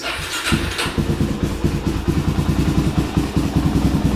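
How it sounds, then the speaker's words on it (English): A Suzuki DRZ400 motorcycle engine idles steadily while warming up, a close, loud, even thumping putter with a mechanical clatter running throughout and no talk. "First thing you're going to want to do is warm your bike up for a couple minutes."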